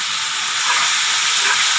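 Dry fish chutney paste cooking and being stirred in a hot pan, giving a loud, steady sizzling hiss with a slight swell midway, close and uninterrupted.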